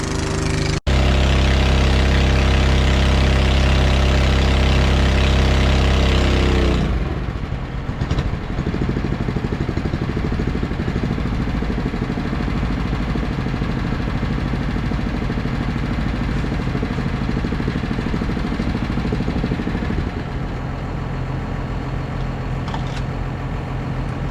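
An old Honda small engine fires on a single pull and settles into a steady, loud idle close by, its low rumble running continuously after the start.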